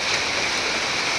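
Rain falls at an outdoor gathering in a steady, dense hiss, close and continuous with no other sounds.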